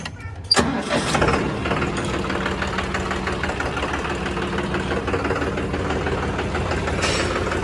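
A John Deere 5405 tractor, 63 horsepower, cranks briefly and fires, then settles into a loud, steady diesel idle with a knocking rumble, close up and continuous.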